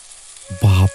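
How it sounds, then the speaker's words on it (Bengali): Large luchi puffing in hot oil, a faint low hiss that suddenly swells into a loud, close burst of sizzling as dough hits the oil, with no talk. "দেখি তোর লুচি ভাজাগুলো কেমন হচ্ছে"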